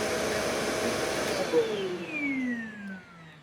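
Shark vacuum cleaner motor running loud and steady, then spinning down with a falling whine over the last seconds, with no speech.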